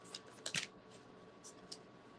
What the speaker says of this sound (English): Let's do a little more shuffle